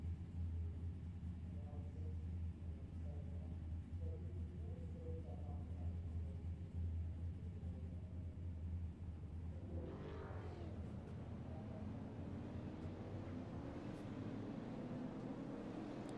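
Super late model race cars at New Smyrna speedway, a steady low engine rumble through the whole stretch with a rising engine whine near the end, under a commentator's voice.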